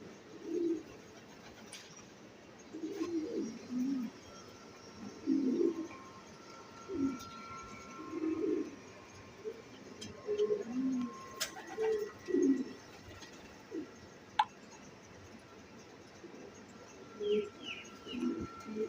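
Soft, low coos from racing pigeons repeat in short rounded bursts every second or so, close by, with faint background hiss and an occasional click.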